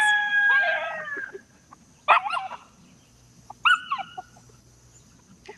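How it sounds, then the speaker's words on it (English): Chickens crowing and squawking nearby, a rooster call followed by two shorter bursts of clucking, with quiet gaps between. "feeding the chickens"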